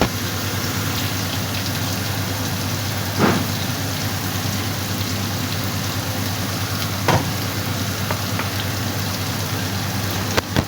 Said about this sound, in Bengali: এরপরে আমি কড়াইয়ের মধ্যে তেল দিয়ে পেঁয়াজটা ভালো করে নেড়ে চেড়ে আদা ভাজা করে নিব